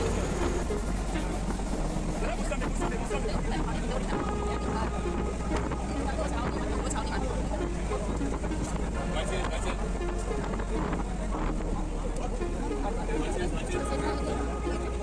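Steady rumble and rattle of a moving Namkhana local passenger train, a continuous low drone with clatter and distant chatter throughout.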